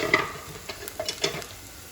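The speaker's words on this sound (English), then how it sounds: "In go the oignons et red pepper." Onions and red pepper hit a hot pan for a vegan corn chowder, giving a soft sizzle with a few scraping stirs close by over about two seconds.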